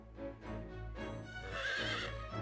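A horse neighs in the Fire Emblem Warriors Three Hopes video game, a rising whinny over a steady game music bed, close and fairly quiet.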